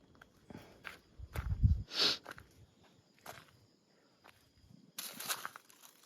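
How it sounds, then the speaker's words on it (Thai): Footsteps move through a forest at night beside a hammock tied high in a tree, a few faint, scattered crunching steps and a brief louder scuff in a very quiet setting. "ได้ยินเสียงเดินนานแล้วนะครับ หลายรอบแล้วอะ"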